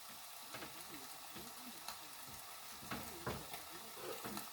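Ingredients sizzle and fry in a pan while a utensil stirs them, with soft scraping clinks over a steady low crackle that continues throughout, close and moderately quiet.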